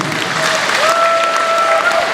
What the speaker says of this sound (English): Give them a round of applause as they're seated